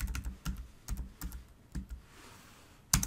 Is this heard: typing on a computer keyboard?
yes